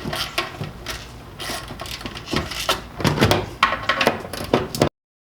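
A ratchet with a 12 mm socket and a 6-inch extension breaks loose turbo heat shield bolts on a car, producing close, loud bursts of metallic clicking and clunks in uneven strokes that end abruptly.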